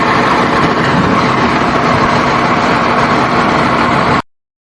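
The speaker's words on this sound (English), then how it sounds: "Fire truck." A fire truck engine gives a steady, loud, close rumble that holds evenly for about four seconds before cutting off abruptly.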